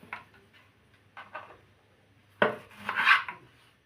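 A knife cuts vegetables, pressing the blade through the side, for a kandankailu curry; a few soft taps come first, then a louder, sharper burst of chopping strokes near the end, close and with no one talking.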